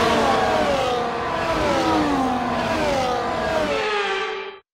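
F1 race cars on a formation lap in the F1 24 video game, a close, loud, high-pitched engine whine that revs and sweeps steadily, with several cars layered together before it cuts off abruptly.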